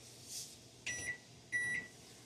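Two short electronic beeps sound in a quiet kitchen, the second slightly longer, each a clear steady tone with soft background hum between them.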